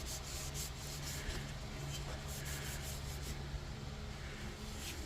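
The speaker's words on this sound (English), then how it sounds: "Wipe down that bottom rim below the decal" A cloth dampened with alcohol rubbed along the dirty bottom rim of a tent, a steady soft scrubbing and rasping close by, continuous and even over a low background hum.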